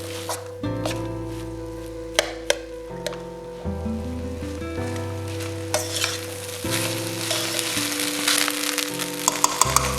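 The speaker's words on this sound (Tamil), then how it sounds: "இப்போ இந்த சாதத்தை இந்த மிக்சரோட சேர்த்து மிக்ஸ் பண்ணிடலாம்." Cooked rice is stir-fried into a gobi manchurian fried rice mixture, with scraping and sizzling from the pan and sharp spatula clicks over background music throughout.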